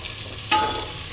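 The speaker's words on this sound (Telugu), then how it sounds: "ఇప్పుడు ఇవి బాగా ఫ్రై చేసుకోవాలి మాడు పట్టకుండా కలుపుకోవాలి" Coriander, green chillies and tomatoes frying in a pan for pulao while being stirred; a soft continuous sizzle with one sharp scrape or clatter from the stirring midway.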